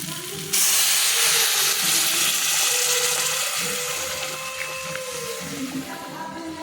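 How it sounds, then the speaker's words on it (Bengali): Hot water is poured into sautéed boiled potatoes with spices in a pan for a banana-flower fritter curry, producing a sudden loud hiss and sizzle that stays steady and then gradually softens. "এবার এটাতে একটুখানি গরম জল দেবো"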